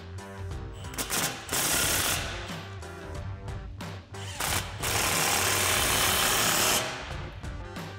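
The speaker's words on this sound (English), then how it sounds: "we'll slide our clamp into place and tighten that down with our same 15 millimeter socket" Impact wrench with a 15 millimeter socket tightening an exhaust clamp on a 2021-2023 Ford F-150 Corsa dual exhaust install, loud rapid hammering bursts of varying length, close and without talk.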